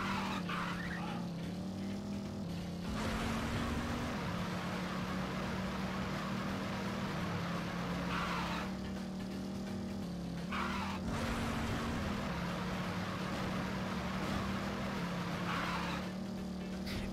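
A car engine hums steadily while driving in the video game No More Heroes, its tone shifting between gears with occasional tire squeal, holding a constant moderate level.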